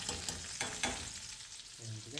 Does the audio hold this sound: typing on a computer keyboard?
no